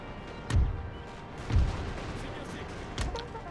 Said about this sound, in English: firing towards the general.